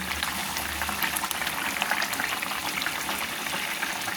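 Rui posto, a Bengali rohu fish curry in poppy seed paste with green chillies, bubbles steadily in a pan, with a dense continuous hiss of simmering and spitting liquid that holds close and even throughout, no voices.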